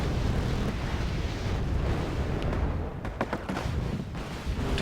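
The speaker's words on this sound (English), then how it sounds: "Nighthawk dropping in its bomb" A bomb dropped by a Nighthawk strike jet bursts in the Wargame Airland Battle strategy game, a dense rumbling roar with several sharp cracking blasts in the middle of a continuous battle din.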